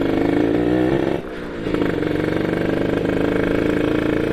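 A two-stroke 150cc motorcycle engine runs loud and close, a steady buzzing drone with a brief dip in the middle before it picks back up.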